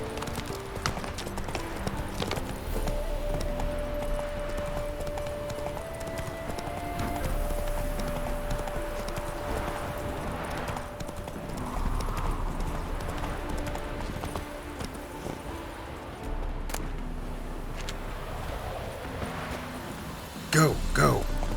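Roach, a horse in The Witcher 3 game, gallops with steady hoof clip-clops over a continuous game soundscape, with speech present and a brief louder burst near the end.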